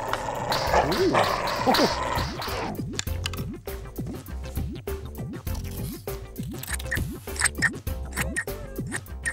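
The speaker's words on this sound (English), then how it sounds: "Now we need to cut this shape out, but be careful because scissors are sharp." Scissors snipping through a plastic lid to cut out a drawn shape, a steady series of close, crisp cuts after an opening stretch of rustling handling.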